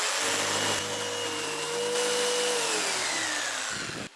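A jigsaw cuts a cabinet toe kick recess guided along a speed square, a steady loud motor whine with a slightly shifting pitch running for about four seconds before stopping abruptly.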